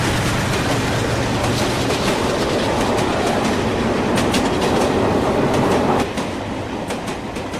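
Steady rumble and rhythmic clatter of a train ride in India, loud and continuous, with the noise dropping slightly near the end; no voices.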